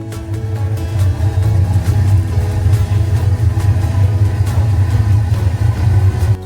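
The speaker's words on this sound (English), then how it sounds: "It takes a long time to warm up these steam locomotive boilers." Steam locomotives sit warming up after being fired up at a railway festival, giving a steady, loud, low mechanical rumble with faint rhythmic ticking and no voices.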